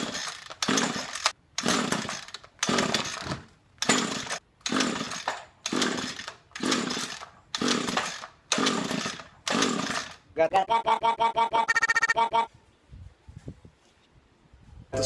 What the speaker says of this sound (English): The trimmer takes a while for it to start. It takes about 8 to 10 pulls.